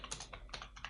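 Rapid typing on a computer keyboard during STM32 code editing, a quick close run of crisp key clicks at uneven spacing, quiet and with no talking.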